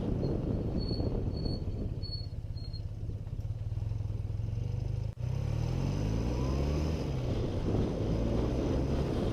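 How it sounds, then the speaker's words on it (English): A BMW R80S motorcycle of about 50 horsepower is ridden through the Christchurch Port Hills, its steady low engine drone and wind rush continuous throughout, with a brief dropout midway and a few faint chirps early on. "It's, yeah, pretty much only about 50 horsepower this bike, which is pretty good for me because I'm not used to big bikes"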